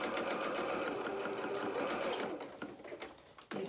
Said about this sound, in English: And then we're going to sew towards the end,